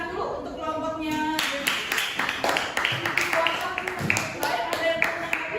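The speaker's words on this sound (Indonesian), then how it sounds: "Yuk, kita beri tepuk tangan dulu untuk kelompoknya" A class of students in a maths lesson applauding a group, quick rhythmic clapping from many hands joining in and continuing steadily, with voices talking and calling out in the room.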